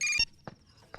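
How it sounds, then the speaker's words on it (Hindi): A telephone rings once in a short electronic burst, close and clear, followed by a couple of faint knocks. "फोन बजा"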